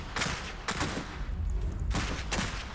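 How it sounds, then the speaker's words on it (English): Repeated gunfire bursts in the real-time strategy game Iron Harvest, a few sharp broadband volleys spaced apart over steady battle noise, moderately loud and close. "They're shooting at us!"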